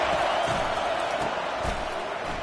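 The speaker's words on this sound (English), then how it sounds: "This crowd, full throat, splitting the eardrums" A stadium crowd in the college football game NCAA 25 roars at full volume, a dense and steady wall of noise that holds without a break for the whole moment.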